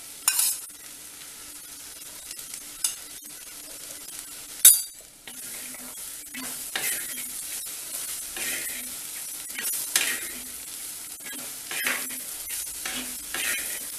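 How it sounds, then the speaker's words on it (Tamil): A spoon stirs ground spice powder into drumstick and mango sambar in a pot, giving repeated scraping strokes over a low, close simmer-sizzle, with one sharp metallic clink partway through and no talking. "பொடி ஒன்று சேர்ந்து போயிடாமல் கொஞ்சம் கொஞ்சமாக போட்டு கிண்டிக்கணும்"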